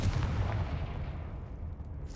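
Confringo explosive spell in Hogwarts Legacy, a booming low blast at the start that rumbles and fades away over two seconds.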